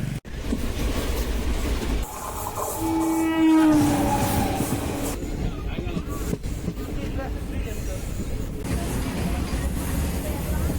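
Train sounds at the Tiruvannamalai railway station platform, with a loud rumble and rising horn-like tones around the middle, under continuous nearby talk and platform chatter.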